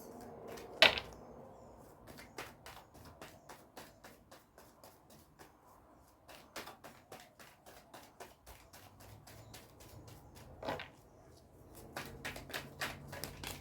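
Tarot cards being shuffled and drawn, heard as a long run of quick, rhythmic crisp flicks and riffles, close and fairly quiet, with a couple of louder taps and brief pauses.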